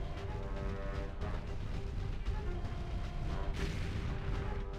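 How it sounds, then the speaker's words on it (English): Incoming weapons fire in MechWarrior 4 comes as a dense, continuous barrage of muffled booms and thuds over a droning mech rumble, steady and fairly loud throughout. "Hey, we're taking fire"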